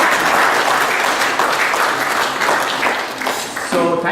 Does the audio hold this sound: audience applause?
yes